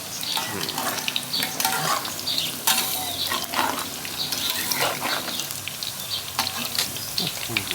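Banana blossom deep-frying in hot oil, a steady close crackling sizzle with bursts of popping throughout, and no speech over it.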